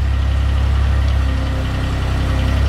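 Bus engine running steadily at a fixed throttle setting, a loud continuous low drone with a regular idling pulse, close and unbroken with no talk.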